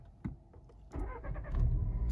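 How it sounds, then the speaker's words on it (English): A car engine cranks and catches, settling into a steady idle that grows louder toward the end, heard up close with a brief knock near the start. "we're going to start the engine"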